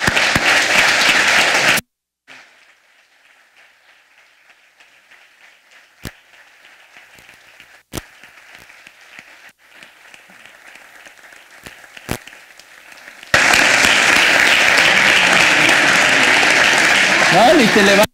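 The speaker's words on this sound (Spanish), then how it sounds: "con un gran aplauso para José Antonio" An audience gives a big round of applause for José Antonio, loud crowd clapping at the start that cuts off, a long quiet stretch with faint sounds and a few sharp clicks, then a strong burst of applause returns at the end.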